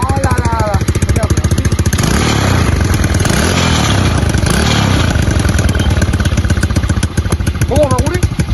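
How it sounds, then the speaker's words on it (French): A quad ATV engine idles and revs with a rough, pulsing clatter and a few sharp backfire-like pops, loud and close throughout, while people talk over it. "C'est le problème aussi avec ce quad, c'est qu'il pète beaucoup."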